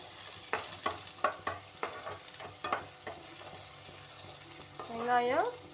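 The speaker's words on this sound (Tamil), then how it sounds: "வெங்காயம் இந்த அளவு நல்லா வறுபடணும்" Onions frying in oil in a kadai, heard as a soft sizzle under a string of sharp ladle scrapes and taps near the start. A short tonal squeak rises near the end.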